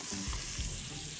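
Chopped onion and two finely minced garlic cloves fry in a pan for a chicken rice dish, giving a dense, steady sizzle close by with no one talking.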